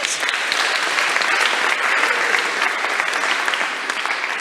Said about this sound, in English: So big round of applause for staying until the end.